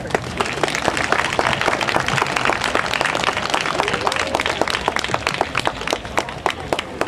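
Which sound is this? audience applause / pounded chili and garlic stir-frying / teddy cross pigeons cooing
audience applause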